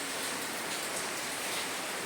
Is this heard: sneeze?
no